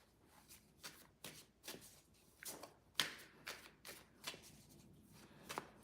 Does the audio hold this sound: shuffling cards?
yes